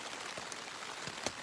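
Steady rain drums on a tent during a winter storm on the trail between Springer Mountain and Hawk Mountain, a dense wash of drops with a few louder pattering hits, no one talking.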